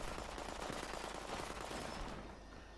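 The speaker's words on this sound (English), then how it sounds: "Oh, they're shooting me." Rapid continuous gunfire from Fallout 76 crackles as a dense, steady barrage at moderate distance, easing slightly at the end.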